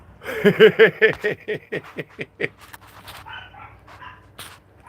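A dog barks in a rapid series of close, loud yaps that gradually quieten and turn into softer whimpering noises.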